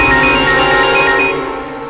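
A phone ringtone for an incoming call sounds loud and close, a repeating bright electronic melody that rings steadily and then fades slightly near the end, with no talking over it.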